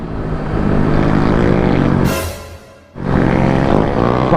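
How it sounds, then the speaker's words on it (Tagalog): Motorcycles revving hard in a street race between a Yamaha Aerox 155 and 125cc bikes, a loud close roar that drops away briefly and then surges back at full volume. "Bakbakan ng mga motor"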